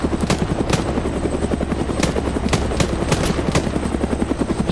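Helicopter in the video game Arma 3 during a zombie fight, its rotor chopping in a steady loud rhythmic beat with sharp periodic blade slaps over a constant low drone.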